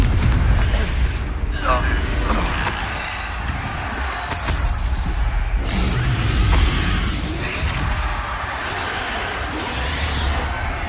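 A Confringo blast spell in Hogwarts Legacy goes off as a loud, booming explosion with shattering debris inside continuous game combat noise, and a voice speaks over it.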